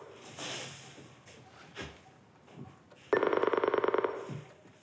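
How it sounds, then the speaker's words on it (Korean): A telephone on the inter-Korean leaders' hotline in a Korean political TV drama starts ringing loudly after quieter tense dramatic sounds, a fast electronic trill of bursts that begins abruptly partway through. "테러 이후 불통이었던 남북 정상 간 직통전화가 울리기 시작하고."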